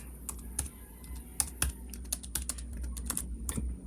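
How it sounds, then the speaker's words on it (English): Steady clicking of keys on a computer keyboard, fast and uneven with a few louder strokes, set against a faint background hum and with no talking. "And here I'm about to type of Paraspeech."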